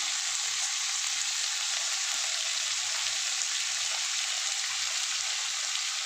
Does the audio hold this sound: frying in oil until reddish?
yes